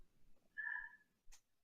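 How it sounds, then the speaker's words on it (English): A cat gives a single clear meow of moderate length, then a short sharp click or tap follows in an otherwise quiet room. "The cat is outsmarting the human."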